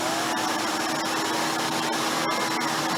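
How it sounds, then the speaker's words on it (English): A Silverado Deluxe vacuum cleaner runs steadily with its brush roll motor switched on, giving a constant loud whine and broadband rush for the whole stretch, with no talking. "Now let's go ahead and turn the brush roll on for this"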